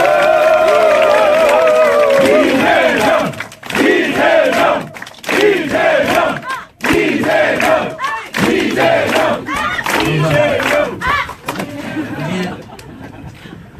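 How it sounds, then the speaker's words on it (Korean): A crowd at a Korean political campaign disbanding ceremony for Lee Jae-myung's camp cheers and shouts loudly in bursts, with scattered clapping and an amplified voice on a PA system carrying through the noise. "전 후보의 뜨거운 박수 부탁드립니다."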